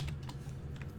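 Quick keystrokes tap on a computer keyboard up close over a low steady hum, a short burst of typing with no voices.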